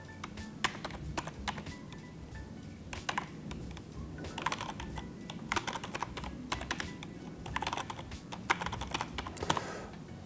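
A password is typed on a computer keyboard in quick, uneven bursts of close clicking keys with short pauses between runs.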